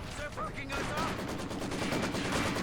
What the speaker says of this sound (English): Maxim gun forcing away these Ostrippen on the right flank